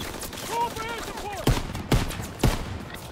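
Gunfire in the World War II shooter game Call of Duty WWII: three sharp, loud shots about half a second apart, preceded by brief whistling tones and with no talk over them.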